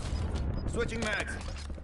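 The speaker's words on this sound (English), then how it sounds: "Switching mags." Magazine swap reload in Call of Duty Warzone: a quick sequence of close mechanical clicks, creaks and ratcheting metal handling, partly under a brief voice callout.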